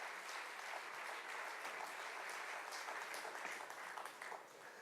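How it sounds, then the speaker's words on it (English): Steady, dense audience applause at a formal address fills the whole stretch at even loudness, with no voices breaking through. "Big round of applause"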